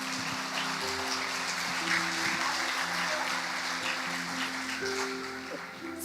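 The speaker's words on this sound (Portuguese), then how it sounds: "Pode aplaudir com vontade, se você crê que Jesus cura." A church congregation applauds steadily and loudly during a healing service, a dense wash of clapping with a sustained tonal hum underneath and faint voices mixed in, fading slightly toward the end.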